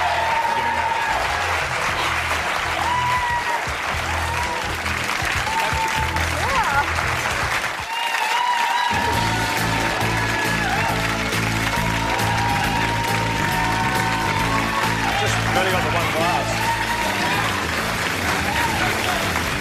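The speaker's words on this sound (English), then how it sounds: "Applaud now." A studio audience on a late-night television talk show applauds steadily and loudly for nearly twenty seconds, with music and voices running underneath.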